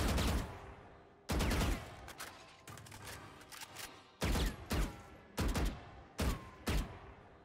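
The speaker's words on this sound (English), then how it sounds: "You can shoot through them with a vandal." Vandal rifle gunfire in Valorant on the Breeze map comes as several loud, close bursts of rapid shots separated by short pauses, with shorter taps toward the end.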